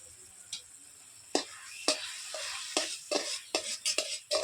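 Maggi noodles with salt being stirred in a pan, a quiet series of scraping utensil strokes over a faint sizzle, growing quicker toward the end.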